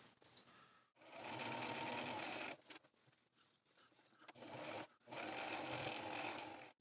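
A sewing machine runs a 1/4 inch seam along a drawstring bag in loud bursts of rapid whirring, separated by brief pauses and fabric shuffling, ending in a final long stretch of stitching.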